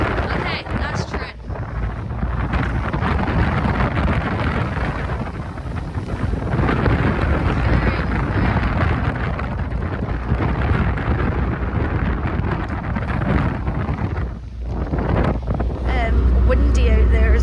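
Wind blowing across the deck of the ferry M.V. Alfred on the crossing from Brodick to Troon, a loud continuous roar buffeting the microphone with gusty surges throughout.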